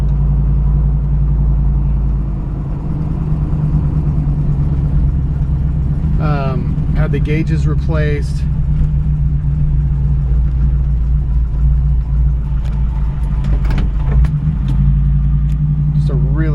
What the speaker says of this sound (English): Just a really great engine, still warming up a little bit. Idle's a little high.